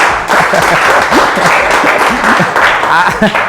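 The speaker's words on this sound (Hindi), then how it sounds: "आर.के. सर के लिए हम चाहेंगे एक बार ताली होना चाहिए" An audience at a product presentation breaks into loud, sustained applause, with voices talking over the clapping throughout.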